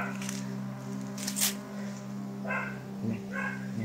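A dog barks a few times in the distance, faint and spaced out over a steady low hum.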